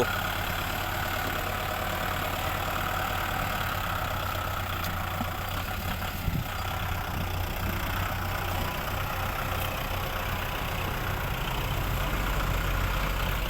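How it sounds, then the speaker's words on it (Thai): A Kubota M6040 SU tractor engine idles steadily with a low, even rumble, continuous and fairly near, with no talking, during sugarcane planting. "ใช้รถไถคูปต้าครับ"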